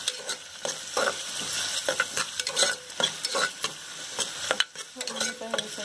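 Onion frying in hot oil with green chilies and curry leaves, a steady close sizzle broken by repeated scraping stirs of a spoon against the pan, with no voices.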